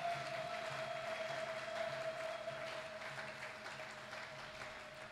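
Church congregation clapping at an evening deliverance service in DR Congo, a broad steady wash of applause that fades slightly toward the end, with a sustained tone running underneath.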